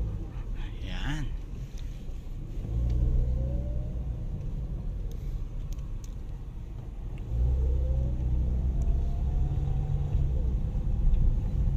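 A car engine hums low while driving on a road, its rumble swelling twice as the driver eases off the brake over speed humps and then accelerates, with a voice speaking over it.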